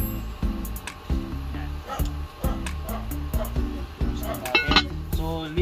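A lid clatters onto a pan of garlic seafood in a home kitchen, metallic clinks and knocks repeating in quick bursts amid ongoing cookware rattling, close and moderately loud.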